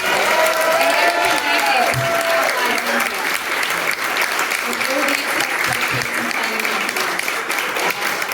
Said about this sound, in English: they deserve one more round of applause for all of the hard work they did.